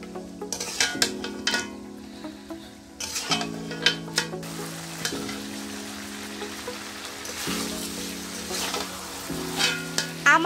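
Large chicken roast pieces sizzle steadily in hot oil with masala, while a spoon stirs and scrapes through them again and again. The frying is close and continuous, and no one speaks.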